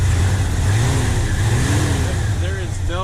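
A stock, unmodified Ford Bronco engine idling with a deep, steady low rumble close to the microphone, while someone talks over it almost throughout.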